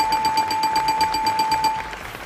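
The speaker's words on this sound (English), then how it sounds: "let me press the buzzer now and see who I get to speak to" A game show buzzer at a live-streamed charity event: a loud, steady electronic buzzing tone with a rapid pulsing rattle lasts nearly two seconds and then cuts off.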